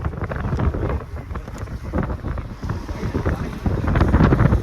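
Strong storm wind buffets the microphone outdoors near a Karaikal market and seaside during Cyclone Ditwah, a loud, continuous rumbling roar with gusty surges and no talking.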